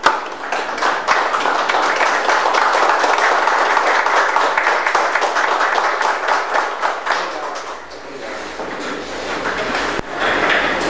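A municipal council chamber audience gives a standing ovation in session, a long dense roll of clapping from many people indoors that dips briefly near the end and then resumes, with no speech.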